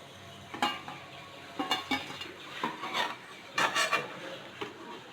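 Bitter gourd frying in a pan and being turned, with a soft background sizzle broken by several scraping, rubbing strokes of a spatula against the pan at irregular intervals; no talking.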